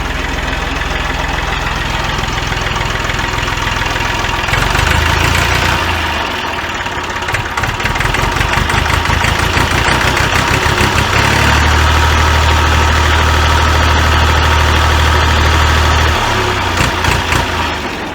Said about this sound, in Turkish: arkadaşlar traktörümüz çalıştı. Böyle bir gaz verelim isterseniz.